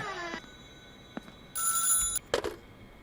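A telephone rings inside the horror video game House on the Hill: a short electronic ring burst at mid-volume, then quieter clicks and a brief second flutter, with no talking.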